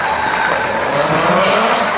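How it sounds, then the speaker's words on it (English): A drift car at a 2006 D1GP All Stars event slides on the handbrake toward a wall, its engine roaring over loud, sustained tire skidding and squeal; no voices are heard. "he extended his handbrake right now so he can slide a little bit farther towards the wall"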